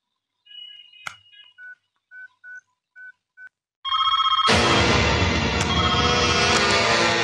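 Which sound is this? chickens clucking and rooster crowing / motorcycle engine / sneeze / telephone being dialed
telephone being dialed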